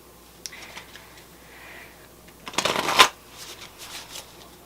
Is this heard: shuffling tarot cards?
yes